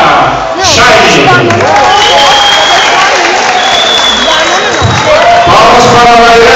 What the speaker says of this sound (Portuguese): Palmas para Shine.